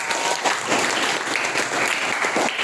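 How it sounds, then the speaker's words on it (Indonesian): Students in a history classroom give a short burst of applause for a classmate, brisk and fairly close, lasting a couple of seconds. "Tepuk tangan untuk Mbak Keisha"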